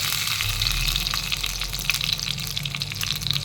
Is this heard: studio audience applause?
no